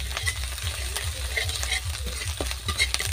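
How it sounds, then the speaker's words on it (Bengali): Ginger garlic paste fries in a hot pan, a close crackling sizzle with stirring scrapes throughout, fairly quiet and with no talk over it. "তো আদা রসুনটা একটু ভেজে নিই।"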